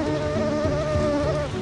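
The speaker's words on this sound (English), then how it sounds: "The mangroves are infested with mosquitoes" Close, loud whine of mosquitoes buzzing steadily in Mekong Delta mangroves, a high, wavering insect drone with shifting pitch and no other sounds.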